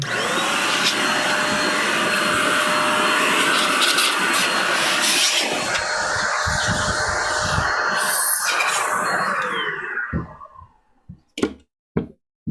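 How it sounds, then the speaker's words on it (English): Compressed air blasting through a Bambu Lab X1C AMS filament unit, a loud continuous roaring hiss lasting about ten seconds, then cutting off and followed by a few sharp knocks and taps. "I'm gonna blow this thing out because it ain't been blown out."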